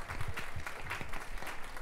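Wedding guests at Mayacama applaud the parents in a short, dense burst of many hands clapping, heard at moderate distance.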